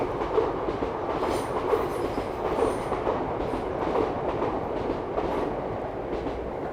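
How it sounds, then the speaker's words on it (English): A Trans-Pennine Express train rumbles past steadily near the Standedge Tunnel on the Huddersfield Narrow Canal, with a continuous roar and faint clickety-clack of wheels throughout and no voices. "you can hear a train going over now"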